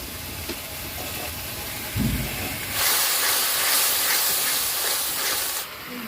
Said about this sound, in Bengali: মশলাটা দেখুন খুব ভালো করে কষে নিয়েছি।